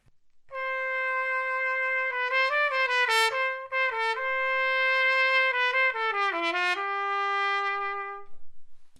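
Trumpet played with a plastic straight mute, a solo melodic line of sustained and moving notes heard clearly and alone, with a bright, slightly thin, buzzy tone.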